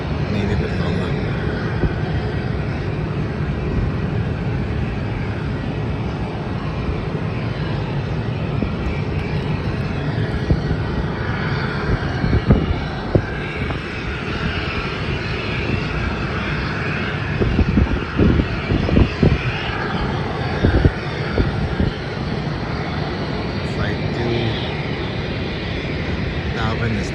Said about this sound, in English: a flight to Darwin will be taking off on a Qantas Boeing 737